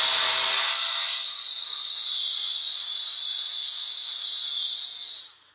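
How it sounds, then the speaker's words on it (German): Cordless power driver whirring steadily as it backs out the screws on the portal axle of an Axial Capra 4WS RC crawler's rear axle, a continuous high-pitched motor whine running close and loud for about five seconds before stopping. "Also werden wir die vier Schrauben lösen."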